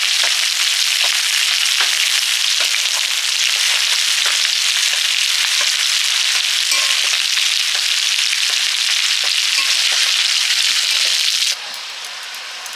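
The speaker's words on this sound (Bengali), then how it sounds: "এবার সবজিটা দিয়ে দিচ্ছি চিচিঙ্গা আছে আর তেলাপিঠে ডাটা শাক" Vegetables including snake gourd and greens fry in hot oil in a pan, a loud, dense, continuous sizzle with faint stirring scrapes, with no talk, that drops sharply in the last second.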